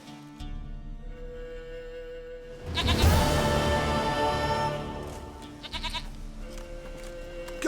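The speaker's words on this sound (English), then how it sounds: "Goat of mine, dearest, sweetest goat." A goat bleats in The Witcher 3: Wild Hunt, one loud, wavering call rising abruptly and holding for a couple of seconds over soft game ambience, then trailing off.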